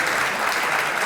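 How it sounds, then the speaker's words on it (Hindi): Studio audience at a Pakistani talk show applauding, a dense, loud, steady burst of clapping throughout. "तालियों।"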